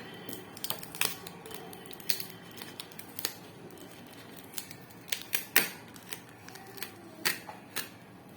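Several sharp scissor snips come one after another in an irregular rhythm, close by and fairly quiet, with no talking.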